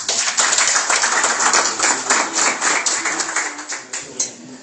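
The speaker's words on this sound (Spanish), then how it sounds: "Fuerte el aplauso para ellos." An audience at a mayoral press event in Dosquebradas applauds entrepreneurs receiving incentives, a steady crackle of many hands clapping that carries evenly for several seconds and eases slightly toward the end.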